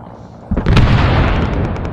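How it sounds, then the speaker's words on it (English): A big explosion in a combat video game set at an embassy, a sudden loud boom that bursts in midway and leaves a long rumbling, crackling roar, with no speech. "I just heard a big explosion somewhere."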